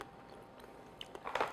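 A few crisp crunching bites into freeze-dried strawberries, close and fairly quiet, getting denser and louder toward the end with no talking.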